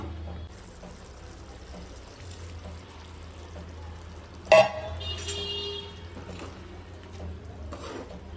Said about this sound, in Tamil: அதனால் கொஞ்சமாக தண்ணி சேர்த்துக்கலாம்